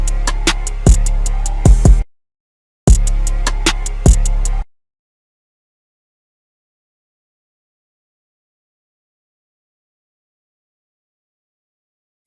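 A rage type hip hop beat with punchy kicks and bright synths plays loud for a few seconds, cuts out briefly in a deliberate dropout, returns, then stops into silence.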